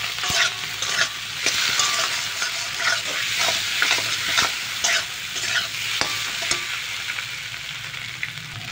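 Potatoes with turmeric and salt frying in oil, with a steady sizzle and repeated scraping stirs of a spoon against the pan at an irregular rhythm, close and moderately loud.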